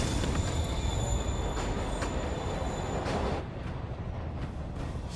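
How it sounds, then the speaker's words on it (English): Train rolling in the video game Marvel's Spider-Man, a steady loud rumble of rail wheels with high squealing tones, easing slightly quieter after a few seconds. "Train moving. Lee's getting away."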